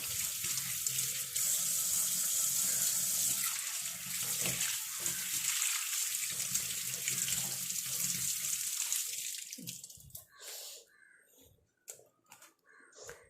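Tap water runs into a kitchen sink with a steady, close splashing rush for about ten seconds, then stops. Crows caw in the background, followed by a few brief clatters.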